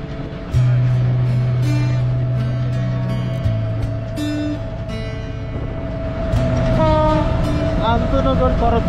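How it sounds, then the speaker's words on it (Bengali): The Karatoya intercity train passes close by with a long horn blast, a second horn a few seconds later, and a loud rumble of wagons and clacking wheels, with voices faintly in the background. "আন্তনগর করতোয়া ট্রেন"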